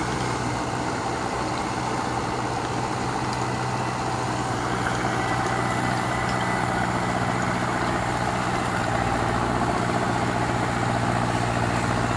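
A Deutz-Fahr 80 hp tractor engine of about 4,000 cc runs steadily throughout, a constant low diesel rumble with a rattling texture, close by and loud, with no talking.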